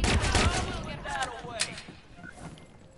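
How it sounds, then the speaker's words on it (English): Gunfire erupts in the video game Watch Dogs 2: a rapid burst of sharp shots up front, fading into scattered cracks with a voice speaking over the action. "Shots fired."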